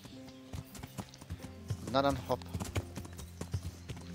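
A horse in the medieval game Kingdom Come: Deliverance clip-clops along with steady hoofbeats, a short whinny in the middle, while someone talks over it.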